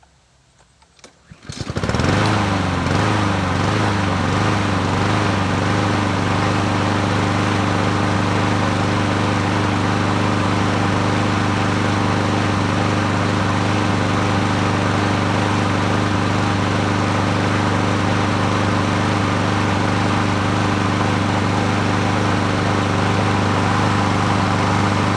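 Honda GCV160 engine on a Troy-Bilt lawn mower, fitted with a new carburetor, starting up and then running at a steady, loud, even drone that continues unbroken and close by with no voices.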